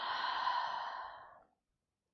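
A deep, steady breath out during a yoga session, a soft breathy exhale lasting about a second and a half before fading into silence.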